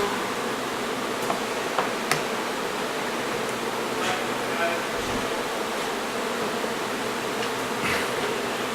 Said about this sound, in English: there's always a few bees in here that we bring